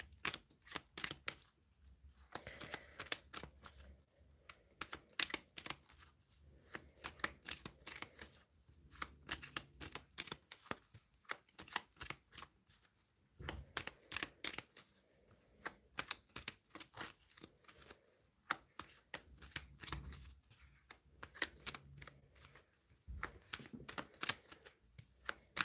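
Tarot cards being shuffled by hand in repeated bursts of crisp, riffling flutters and soft slaps, close and fairly quiet, with brief pauses between handfuls and no talking.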